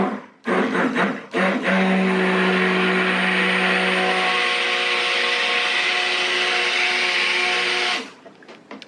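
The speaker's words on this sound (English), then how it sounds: "I burped the stick blender, if you can see the bubbles coming up, to try to prevent bubbles coming through into the soap" Stick blender whirring steadily in soap batter, a loud continuous motor hum with a couple of short bursts at the start before a long sustained run that cuts off abruptly.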